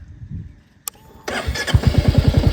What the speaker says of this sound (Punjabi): ਦੂਰੋਂ ਕਿਤੇ ਮੋਟਰਸਾਈਕਲ ਜਾਂ ਸਕੂਟਰ ਦੀ ਆਵਾਜ਼ ਆਉਂਦੀ ਆ